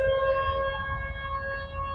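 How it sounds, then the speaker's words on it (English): A faint, steady siren drones on one held pitch for the whole stretch, with no rising or falling wail, heard outdoors in a cemetery in Port Byron, New York. "oh, there goes my siren."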